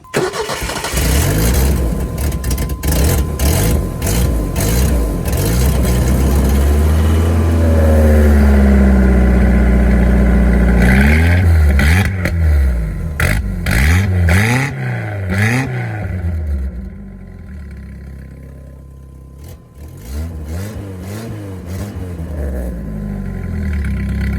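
A 1996 Chevy S10 with a 2.2L engine and an exhaust cutout cranks, fires and runs loud and close. Several revs rise and fall, then it settles into a rumbling idle with more blips near the end.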